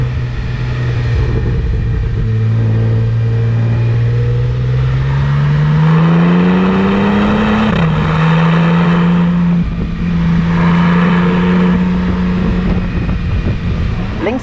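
A Porsche 911 Turbo S Cabriolet accelerating hard, its engine note climbing steadily in pitch, dipping briefly at a shift, then holding a loud, continuous roar close to the listener for the whole stretch, with a person speaking over it.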